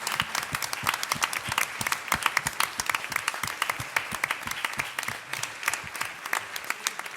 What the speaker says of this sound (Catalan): als quals amb ells sí que demano l'aplaudiment reconegut del treball fet